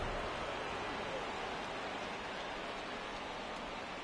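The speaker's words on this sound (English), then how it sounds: "This rain is not letting up." Rain falling during a baseball game in MLB The Show 24, a soft, even hiss of steady rainfall that stays faint and unchanging throughout.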